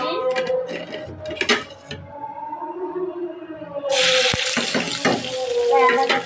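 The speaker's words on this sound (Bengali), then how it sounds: "এখন আমি পেঁয়াজের কুচিটা দিয়ে দিচ্ছি।" Chopped onion dropped into hot oil already seasoned with two bay leaves and two dried chilies, after fish has been fried in it; a sudden loud sizzle bursts in midway and keeps crackling, with a voice and stirring before it.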